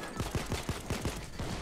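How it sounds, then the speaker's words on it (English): Bursts of gunfire in the Payday 2 heist game, a rapid run of around ten sharp shots in an uneven rhythm, fairly faint and slightly distant. "I'm shooting people."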